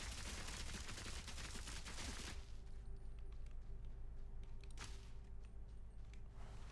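Mortar and cluster grenade blasts in the video game Path of Exile 2, a dense barrage of crackling explosions and pops that thins into scattered bursts over a steady game hum, faint and without talk.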